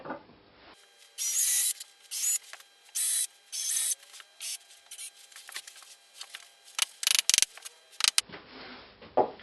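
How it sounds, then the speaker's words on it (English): A small hole is drilled through a wooden guitar fretboard and neck: a series of short, sharp, whining bursts of different lengths with quiet pauses between them, close up, with no talk. "drill a little hole in here to position this to stop it swirling around with the glue"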